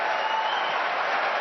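A debate audience applauds steadily, a dense continuous patter of many hands at even volume with no pauses, with no clear voices standing out above it.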